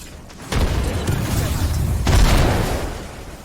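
A frag grenade goes off in Apex Legends, with a deep booming blast rolling out amid battle noise and a second burst of explosive rumble soon after.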